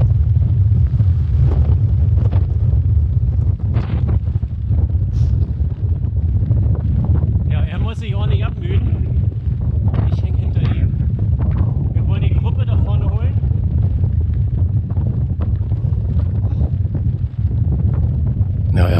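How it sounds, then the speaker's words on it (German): Strong wind blows during a long-distance bicycle ride on a 400 km brevet, with heavy low rumbling buffeting against the microphone throughout. Short bursts of other sounds come through at points. "Der Wind, also man sieht es hier leider nicht so an den Büschen, der war doch ziemlich übel."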